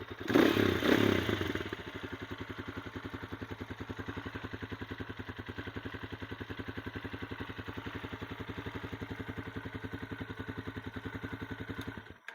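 A Lifan X-Plore 200 dirt bike engine with stock exhaust idles steadily with a rapid, even putter, preceded by a brief louder rev and clatter at the start.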